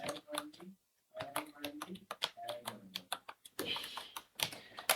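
Keys clicking on a computer keyboard, with brief bursts of typing near the end, heard under a person speaking Bengali for most of the clip.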